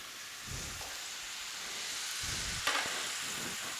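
Carrots and potatoes get stirred in a hot pan over a continuous hiss of frying. Two short bursts of scraping are heard, then a brief sharp clink near the end.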